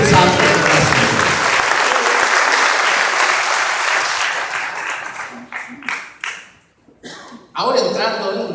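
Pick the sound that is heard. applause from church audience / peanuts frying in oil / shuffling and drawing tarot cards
applause from church audience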